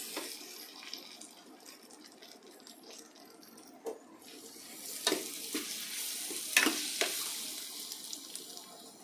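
Tomatoes fry quietly in a pan while being stirred, a soft sizzle broken by occasional scraping clicks and taps that grow a little louder midway.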